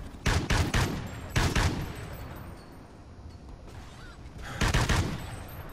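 An automated sentry gun in a video game firing while the base's defenses at the Exodus launch site are held: three loud, close bursts of rapid gunfire, with quieter rumbling gaps between them.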